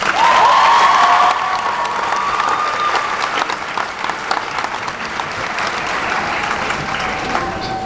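Graduation ceremony crowd applauding for the Class of 2011, a dense, steady wash of clapping that stays loud throughout, with a brief high whistle near the start.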